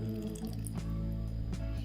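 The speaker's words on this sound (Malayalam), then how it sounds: "ചെറുനാരങ്ങ പിഴിഞ്ഞ് ചെറുനാരങ്ങ നീര് ഇതിലേക്ക് ഒഴിക്കുകയാണ്" Juice from two large lemons is squeezed into a bowl, heard as faint, soft drips and a light trickle over a quiet background hum.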